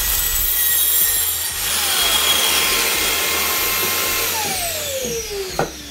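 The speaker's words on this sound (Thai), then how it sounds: "ผมจะติดฟอร์เมก้าหรือว่าลามิเนตเนี่ยแหละครับผมก็ใช้แท็กซอตัดได้เช่นกันนะครับ" A trimmer router cutting thin laminate sheet with a dust vacuum attached, during a home kitchen shelf build: a loud, steady, whining roar of motor and suction that runs throughout, with a brief knock near the end.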